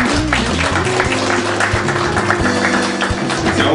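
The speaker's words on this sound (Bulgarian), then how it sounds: "Аплодисменти за мен." Audience applause at an indoor arts presentation, steady loud clapping filling the room continuously, with a low droning tone and occasional taps underneath.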